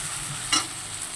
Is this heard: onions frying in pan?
yes